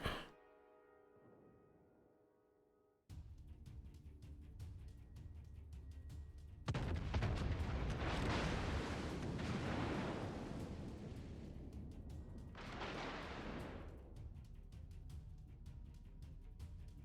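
Naval gunfire from a Des Moines heavy cruiser in World of Warships, a sustained rumbling barrage of booming shots and roaring blasts that builds after a quieter opening, with washing, surf-like swells underneath.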